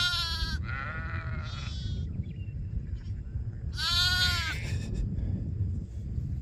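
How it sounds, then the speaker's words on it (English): Ewe lamb bleating in a farm pen, two or three loud wavering cries close by, over a steady low rumble of wind or background noise. "You little ewe lamb."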